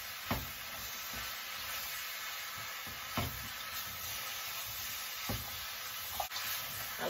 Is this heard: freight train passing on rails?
no